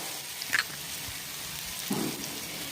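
Chopped dried Bombay duck frying in a kadhai gives off a faint, steady crackling sizzle with a few soft pops and stirring clinks.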